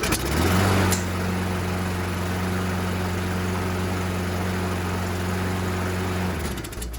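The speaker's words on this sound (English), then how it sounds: "I'm gonna go ahead and try to start it and see if it runs" A Husqvarna walk-behind lawn mower engine sputters to life with a sharp burst, then runs at a steady, droning idle for several seconds before cutting out near the end, close and loud with no voices.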